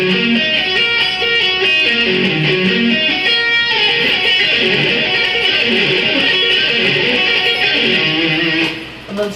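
Electric guitar arpeggio figure with hammer-ons and pull-offs, a steady stream of rapid, evenly spaced notes with a bright, driven tone, played alone without talking.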